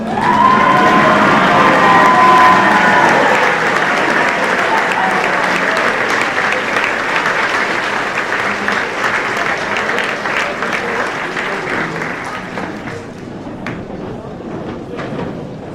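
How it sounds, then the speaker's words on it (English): Applause from a crowd of athletes standing at a high school spring varsity sports awards ceremony, a loud, dense clapping that stays steady for about twelve seconds, then gradually thins and fades toward the end. "athletes, if you can stand and give your coaches a round of applause."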